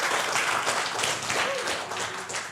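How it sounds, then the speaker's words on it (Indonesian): An indoor audience applauds for a coach at a gathering, with dense, continuous clapping that stays loud and even throughout, along with some faint crowd murmur. "Oke, kita beri aplaus untuk coach kita Dokter Andika Putra Sediawan ya."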